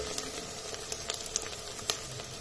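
Bay leaves, dried red chillies and curry leaves sizzle in hot oil with a soft, steady frying hiss dotted with small crackles and pops, fairly quiet and close, with no talking.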